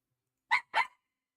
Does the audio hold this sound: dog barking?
yes